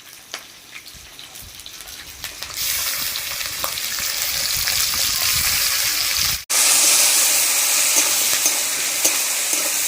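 A ground paste of cumin, chili, mustard and green chili goes into hot oil with potatoes, and a loud, steady sizzle swells and continues with brief stirring scrapes.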